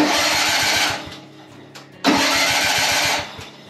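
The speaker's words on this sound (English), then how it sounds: "But it's not slipping on cranking." The starter on a 1986 Wheel Horse 417A tractor with a Kohler engine cranks the engine in two bursts, each a rapid, rhythmic chugging with a loud whir, separated by a short pause, close and loud with no voices.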